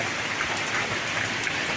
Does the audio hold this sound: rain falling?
yes